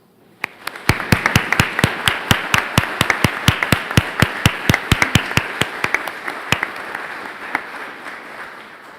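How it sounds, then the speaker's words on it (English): Applause for new members at a high school National Honor Society induction ceremony: a few nearby sharp, distinct hand claps ring out over softer general clapping that continues steadily and then tapers off near the end. "Please recognize our newest members with a round of applause."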